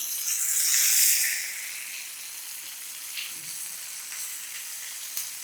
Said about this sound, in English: I'm gonna go ahead and flip this fish now to let it start cooking on the other side.